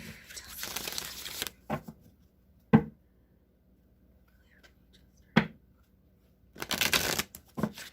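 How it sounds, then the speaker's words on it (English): A deck of tarot cards shuffled close by in several quick riffling bursts, separated by short taps and quiet pauses. "I'm going to shuffle the deck 3 times, cut the deck, draw a card"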